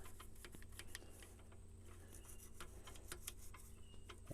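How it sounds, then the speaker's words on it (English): Toothbrush scrubbing inside a car throttle body and around its flapper, quiet irregular scratchy bristle strokes and light ticks, faint and close with no voices. "stick that toothbrush back in there, and clean around that throttle body and around that flapper"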